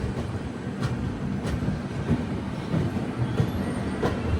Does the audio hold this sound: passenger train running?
yes